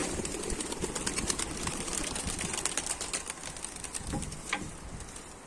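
A Dolapçı tumbler pigeon takes off with rapid clattering wingbeats. The flapping is close and rhythmic over outdoor background noise, followed by a couple of sharper rising sounds near the end.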